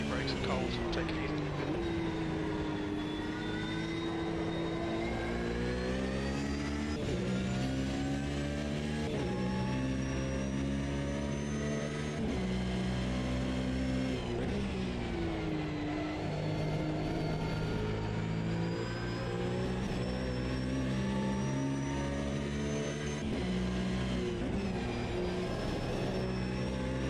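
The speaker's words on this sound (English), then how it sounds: "Okay, David, we've got 40 minutes to set a lap" A race car engine in an endurance racing video game drones and revs continuously, pitch climbing and dropping through gear changes, with someone talking over it.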